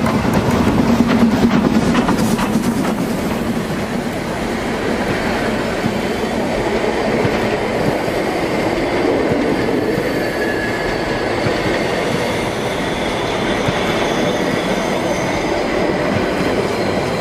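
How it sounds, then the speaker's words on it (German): A Harzquerbahn narrow-gauge steam train passing through autumn forest in the Harz, a loud continuous rumble of rolling wagons with wheel squeal and rhythmic clatter, close by and steady. "Für die Fahrgäste dieses Zuges geht es hier nun weiter auf den Brocken."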